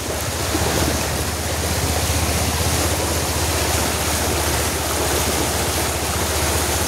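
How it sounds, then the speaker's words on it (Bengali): A motorbike rolls slowly through a waterlogged street in South Kolkata after heavy rain. Loud, continuous rushing water and wind noise fill the clip, with a low steady rumble beneath and no talking. "খুব জলে আমরা আস্তে আস্তে লেক কালীবাড়ির পাশ দিয়ে যাচ্ছি"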